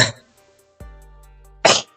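A short cough at the start, then a steady low hum, and a second sharper cough near the end.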